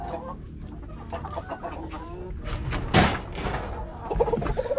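Chickens cluck and squawk in a coop, a busy, close flock with one louder burst partway through, mixed with faint movement.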